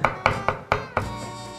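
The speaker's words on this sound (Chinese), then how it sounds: "老师你连切菜都要弄得这么漂亮" A knife chopping vegetables on a cutting board, with about five sharp, evenly spaced cuts in quick rhythm, close and clear, without any talk.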